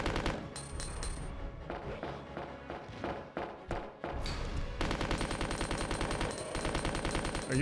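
Rapid bursts of gunfire aimed at an enemy in Resident Evil 2, loud and repeated, with shot clusters, short gaps and a sustained stretch of fast fire toward the end.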